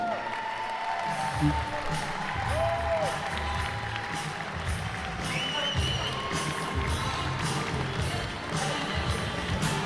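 City audience at the Dania Beach State of the City applauding and cheering to welcome the city manager onstage, steady continuous clapping with scattered whoops filling the room.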